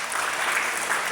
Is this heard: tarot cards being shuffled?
no